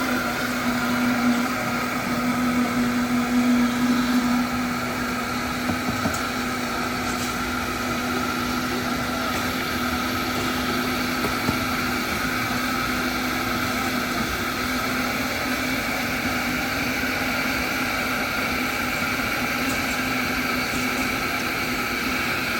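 A Vitamix blender runs in a demonstration, starting slow and revving up into a steady, loud whirring drone that holds for a long stretch with a constant motor hum.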